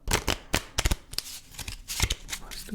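German Austria-Hungary playing cards are shuffled close up in a quiet room, with quick riffling bursts and soft flicks in an uneven rhythm.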